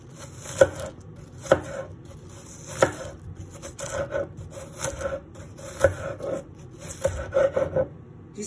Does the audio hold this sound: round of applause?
no